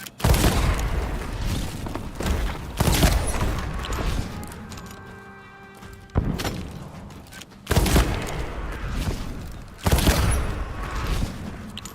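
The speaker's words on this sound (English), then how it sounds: "This double barrel flintlock is awesome." Double barrel flintlock pistol fired in Sea of Thieves: a few loud booming shots spaced several seconds apart, each with a ringing decay, close and dominant.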